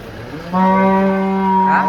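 A cow at the Chakan cattle market lets out a loud, close, sustained moo lasting over a second, with faint market background before it.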